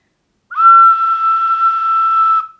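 A single sustained ocarina note played with no holes covered, pure and steady with a soft onset, held for about two seconds before stopping cleanly.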